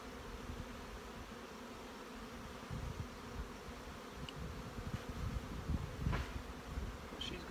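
Honey bees crawl and buzz over a brood frame lifted from a hive, a steady low hum of many insects close by, with some brief sharper buzzes near the end.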